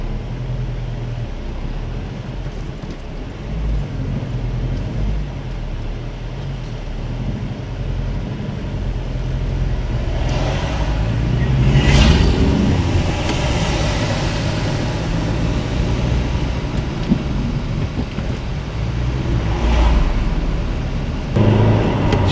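A car climbs the Trollstigen mountain road in Norway, a steady rumbling engine and road noise heard from inside, gradually swelling and easing over the drive with no talk.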